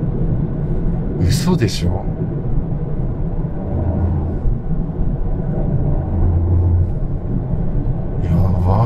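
Toyota GR Yaris RZ with manual gearbox accelerating hard on a highway, a steady loud engine and road rumble throughout with a brief exclamation from a person over it.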